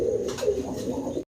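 Racing pigeons of the Milibar racer type, a large pair, coo in steady overlapping low murmurs, close and fairly loud, continuing for over a second before cutting off abruptly.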